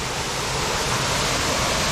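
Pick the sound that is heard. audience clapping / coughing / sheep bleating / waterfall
waterfall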